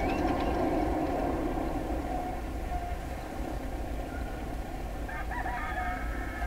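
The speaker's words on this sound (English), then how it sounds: "I heard a rooster." A rooster crows in the Command and Conquer Generals Zero Hour video game, rising out of a constant loud rumble of in-game machinery and ambience.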